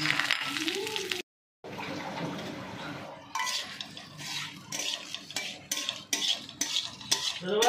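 A metal spoon stirring black cumin, bay leaf, dried red chilli and white cumin tempering in hot oil in a pan, a series of scraping clinks over a soft sizzle, broken by a short silent gap, with a voice speaking at the start.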